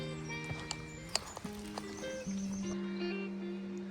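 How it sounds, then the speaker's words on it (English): Hooves clop on a hilly pilgrim trail between Markina and Gernika as a donkey walks past. Several uneven hoof strikes sound close by, with animal calls and tonal sounds layered over them. "we have a donkey right here"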